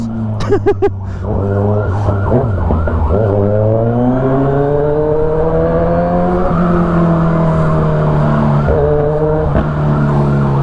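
Loud, steady engine roar from a Kawasaki Z1000R with a full exhaust, close and continuous, with rising and falling revs and a police siren trailing behind during a chase; no speech.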